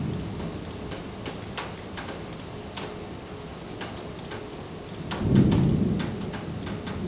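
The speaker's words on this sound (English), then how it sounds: "I'm ready for some rain." Steady rain falls throughout with scattered ticking drops, and a low rumble of thunder rolls in near the end, swelling briefly before fading back under the rain.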